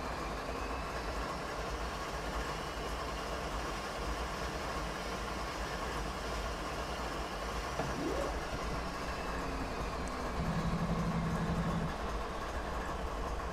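A Norfolk Southern coal train led by an ES44AC locomotive rumbles along steadily in a train simulator game, continuous low roar and faint rail clatter, a short tonal hum rising briefly near the end.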